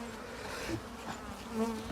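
A close, steady buzzing of many disturbed bees crawling out of a log hive, humming continuously with slight swells in loudness.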